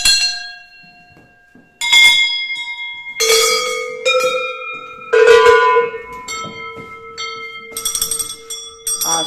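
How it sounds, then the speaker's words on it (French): A series of old 19th-century rural bells, ranging from low to high pitch, are struck in turn, each producing a loud, resonant metallic clang that rings on and fades before the next bell sounds. "vous avez un tas de cloches différentes qui ont évidemment des sons différents"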